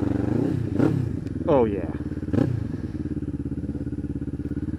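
A motorcycle engine hums steadily nearby while the bike is ridden, with a rider's voice briefly over the drone and small pitch swells as the throttle shifts.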